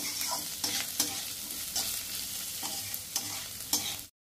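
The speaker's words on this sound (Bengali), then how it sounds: "এখন আমি এটাকে ভালো করে কষিয়ে নেব।" Potatoes and young peepal leaves stir-fried in a pan with slit chillies, turmeric, chilli powder, salt and cumin powder: a steady close sizzle broken by repeated scraping strokes of a spatula, with no talk.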